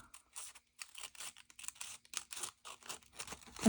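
Scissors snip through collage paper up close in a quiet room, a quick uneven run of crisp cutting and rustling strokes with short pauses between them.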